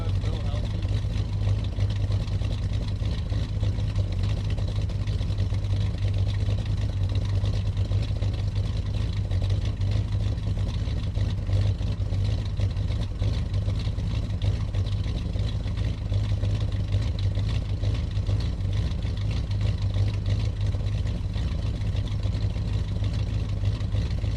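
A 1974 Pontiac GTO's engine idles steadily, a continuous low rumble that holds an even loudness throughout.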